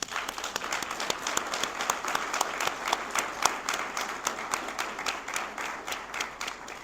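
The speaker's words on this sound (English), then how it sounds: "So let's give them a round of applause." Audience applause at an outdoor ceremony: a steady, moderately distant crowd clapping that keeps going without a break for several seconds.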